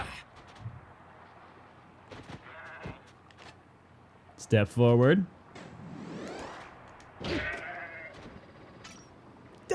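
A goat in the Zanki Zero video game bleats loudly in a wavering cry, with fainter bleats after it, amid quiet game sounds and a person speaking briefly.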